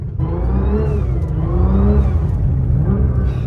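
Close, steady engine roar from a Nissan R35 GT-R driving in snow, with a few gentle swells in revs across the short stretch and nobody talking.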